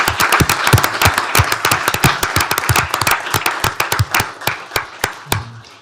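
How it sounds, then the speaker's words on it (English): A small gathering at a county commissioners court applauds its employees with sharp, distinct hand claps that start dense, then scatter and fade to a few last claps. "And one more round of applause for all of our employees."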